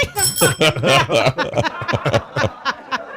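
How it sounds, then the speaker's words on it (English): A bell rings with a bright, sustained tone at the start, while people talk and laugh over and after it. "Ring the fucking bell."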